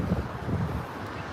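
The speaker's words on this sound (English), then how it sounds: "it's cold, windy, fall weather" Wind blows at Victoria harbour on a cold fall day, a steady low rumble buffeting the microphone throughout, with no voices.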